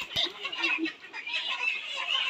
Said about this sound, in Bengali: আমি একটা মুরগি নিয়ে দেখাচ্ছি